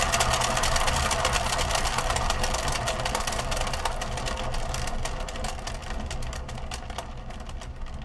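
A motorized turntable for acrylic pouring spins at high speed, giving a loud, steady mechanical whir with rapid rattling that eases off slightly toward the end.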